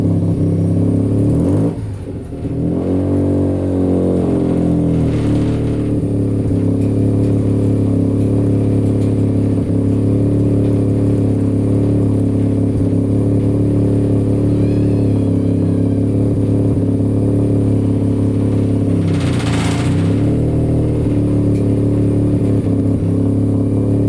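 An engine on a modified SRX project car runs steadily and loudly at high revs for the whole stretch, with brief surges of throttle and no talking.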